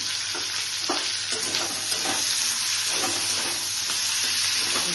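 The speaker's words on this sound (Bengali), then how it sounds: "ফ্রাই করে নিচ্ছি। এভাবে এগুলোকে ফ্রাই করে নিয়েছি।" Tomatoes frying in a pan with a continuous close sizzle, broken by soft stirring taps and scrapes, no one speaking.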